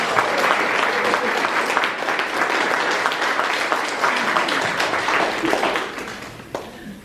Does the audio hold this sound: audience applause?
yes